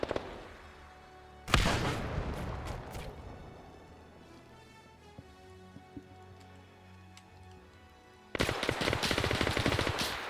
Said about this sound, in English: Grenades going out.